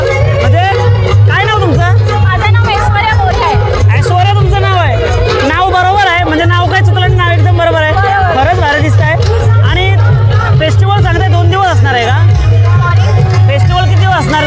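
Dense crowd babble fills the Juhu Koliwada seafood festival, with many overlapping voices chattering loudly and continuously, plus a steady low hum underneath.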